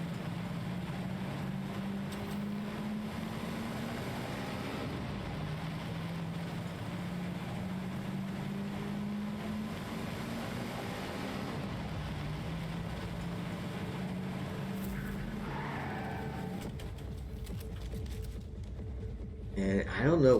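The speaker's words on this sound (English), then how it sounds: "They do find a car, and I guess they'll use that to drive towards the safe area." A car engine in the Fortnite video game hums steadily as the vehicle drives, its pitch rising and dropping with gear-like shifts, under game ambience with a louder burst at the end.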